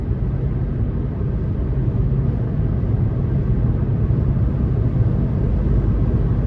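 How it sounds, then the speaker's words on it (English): Steady broadband wind and road roar fills the cabin of a 2024 Nissan Versa SR on alloy wheels while driving, a constant low rumble with no talking. "Now, I do feel like wind noise has picked up a little bit"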